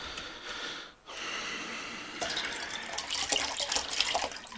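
Water runs steadily, then grows louder and splashier as it pours into a basin, close by with no talking.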